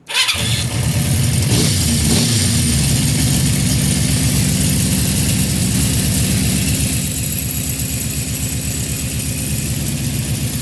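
A 1977 Honda CB400F four-cylinder motorcycle engine runs steadily at about 2000 RPM during a carburetor sync, loud and close, with a constant rapid putter and no talk.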